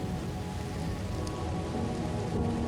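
Rain falls steadily in a dense, even hiss that continues without a break. Nobody speaks over it.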